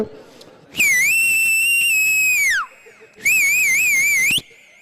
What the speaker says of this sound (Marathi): इथं मी त्याबद्दल शिट्टी देतो